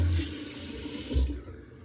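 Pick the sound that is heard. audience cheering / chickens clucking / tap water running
tap water running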